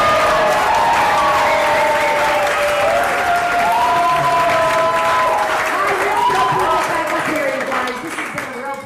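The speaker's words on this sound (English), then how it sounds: "how about a round of applause for Christine Blackburn?" A storytelling game show audience in Big Bear Lake applauds loudly and continuously, with sustained musical tones and bright sliding notes rising over the crowd noise before easing slightly at the end.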